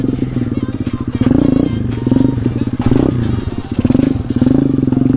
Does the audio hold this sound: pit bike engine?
yes